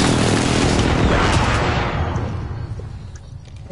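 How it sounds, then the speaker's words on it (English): A precision airstrike in a shooter game hits as a dense barrage of loud explosions and gunfire-like blasts, booming over several seconds before thinning out into a fading rumble. "Friendly precision airstrike on the way."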